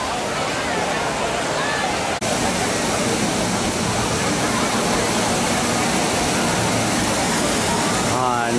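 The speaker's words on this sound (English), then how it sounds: "Nice cool water." Cool water pours steadily from a waterfall at a state park, a loud, continuous broadband rush that fills the scene without pause, with a brief click near the start and faint chirps at the end.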